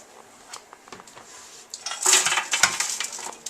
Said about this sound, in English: dump everything in here onto a nice heavy bottomed baking sheet